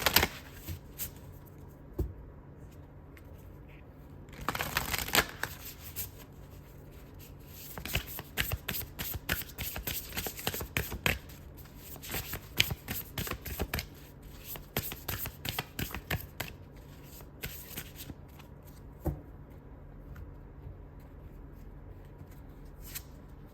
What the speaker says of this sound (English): Let's pull cards to see what the earth spirits have to say, or nature spirits.